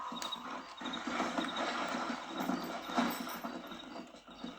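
A horse gallops in the Red Dead Redemption game on PlayStation 3. Steady rhythmic hoofbeats keep up a fast beat at moderate loudness, with faint creaking and soft game ambience underneath.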